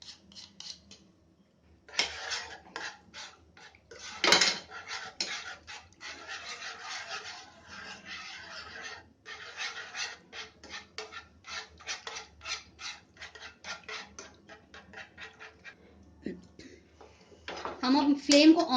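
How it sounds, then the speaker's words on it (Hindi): Whisk scraping and rubbing through lasagne sauce in a pan, rapid irregular strokes with sharp metallic rasps, close and fairly loud, while a person talks between stirs. "इसको हम इससे चलाएंगे, विस्कर से।"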